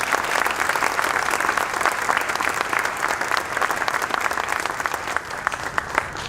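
Sustained applause fills a middle school graduation hall, a dense, steady crowd clapping at moderate distance that holds evenly throughout with a few sharper claps near the end.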